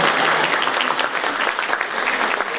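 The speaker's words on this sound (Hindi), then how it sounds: "अरे बजाओ ताली" Dense, steady applause from an audience at a speech by the Governor of Sikkim, a continuous crowd clatter filling the whole stretch without letting up.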